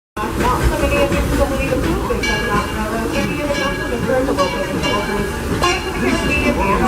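Disneyland Railroad train rolling along the rails near New Orleans Square Station, a steady continuous rumble and clatter with crowd babble mixed in, fairly loud and unbroken throughout.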